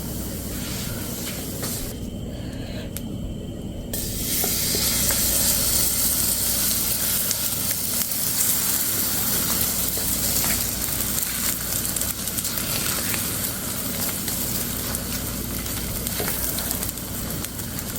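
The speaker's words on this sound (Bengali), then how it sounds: "এভাবে আমি ভেজে নেবো" A vegetable pancake fries in a pan, giving a loud, continuous hissing sizzle that holds steady throughout and swells slightly after a brief quieter stretch near the start, heard alone with no voices.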